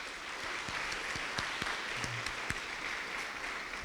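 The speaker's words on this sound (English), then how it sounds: "Let's give them a round of applause." An audience at a school district Teacher of the Year dinner breaks into applause, a steady patter of many hands clapping at moderate distance with a few sharper, louder claps standing out throughout.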